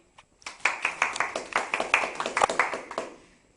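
An audience claps to vote for a side in a staged philosophical debate. The hands enter quickly and keep up a brisk, fairly sparse round of individual claps for about three seconds, then stop.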